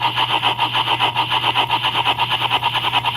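Rhythmic chuffing from the sound speaker of a model Hudson steam locomotive run at reduced voltage, a steady rapid pulsing hiss with a constant low hum underneath, close and loud, no talking.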